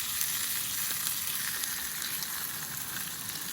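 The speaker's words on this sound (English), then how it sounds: "Just heating up some flatbread." Flatbread and precooked beef-and-lamb meat heating in a pan at a campsite, giving a steady, even sizzle of frying throughout with no voices.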